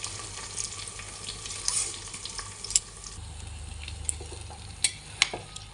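Rice frying in a pan with vegetables, a soft continuous sizzle under scattered clicks and light scrapes as the grains are stirred around, close up and fairly quiet with no talk.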